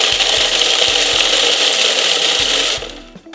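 A food processor whirs loudly while chopping toasted peanuts, a dense rattling grind with faint rhythmic pulses underneath, cutting off abruptly near the end.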